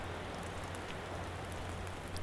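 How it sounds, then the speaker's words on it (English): Rain drizzles steadily in a forest, a dense even patter of drops with a constant low hum underneath. "The rain had just been drizzling,"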